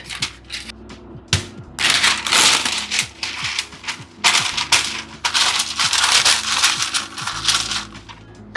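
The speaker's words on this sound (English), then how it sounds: "I'm going to use 2 layers of greaseproof paper to roll it out." Sticky milk dough for roasted milk biscuits is rolled out between two layers of greaseproof paper, giving loud crinkling, rustling paper sounds in uneven bursts close up, with no talk.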